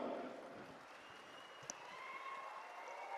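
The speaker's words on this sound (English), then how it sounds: "Let's have a big round of applause, ladies and gentlemen." Audience applause at a corporate awards ceremony fills the hall, a steady dense wash of clapping that stays fairly even throughout, with no voices heard over it.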